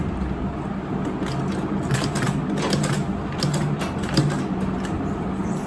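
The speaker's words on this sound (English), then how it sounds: "we are just using a simple machine, so you don't expect it to be fast since it's sewing a lot of fabric at the same time" A simple sewing machine works slowly through several layers of thick Ankara fabric for a sturdy bag, giving a steady mechanical whirring and ticking with faint rhythmic knocks, close and continuous, with no talking.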